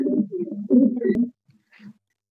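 A Laldom pigeon coos in a loft, two close, low rolling coo phrases followed by a brief softer murmur, with a small click in between.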